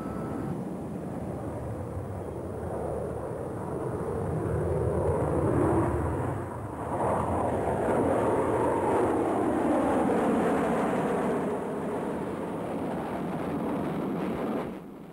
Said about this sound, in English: the test pilot, Walter Smith, used the self-starter on the plane to get the engine going and then taxi the plane directly into its takeoff run